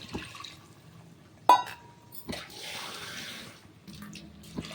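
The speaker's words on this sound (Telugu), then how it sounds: "ఒక గ్లాసుల బియ్యానికి నేను రెండు గ్లాసులు నీళ్ళు వేసుకుంటున్నాను" Water is poured into a pot of rice for mushroom pulao, giving soft splashing and trickling in short bursts between quieter moments, faint and close.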